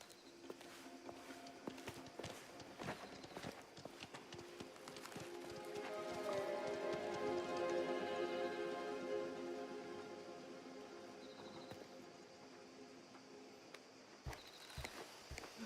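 Soft horse hooves clip-clop at a steady walking pace in the video game Mafia: The Old Country, fairly faint, with a low swelling ambient drone rising and fading behind them.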